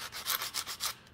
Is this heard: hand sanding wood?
yes